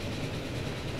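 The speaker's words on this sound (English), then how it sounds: "Another passenger train coming towards us." A passenger train runs along rails in Transport Fever, a steady low rumble of wheels and carriages that holds at an even loudness throughout.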